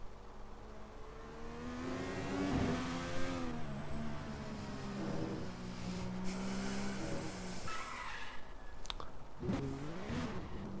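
IndyCar racing video game at Virginia International Raceway: race car engines whine and rise in pitch, with a rasping slide and skid as a car nearly spins, heard fairly close without talk.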